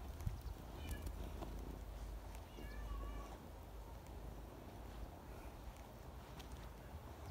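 A small black kitten meows a few times outdoors as it runs after people, the thin cries faint against steady wind noise and background murmur.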